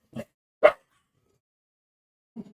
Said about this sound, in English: Sorry about those dogs barking.